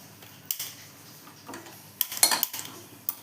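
A kadai pan handled on a home stove, scattered metallic clanks and scrapes, a few sharp knocks with quieter gaps between, close and alone.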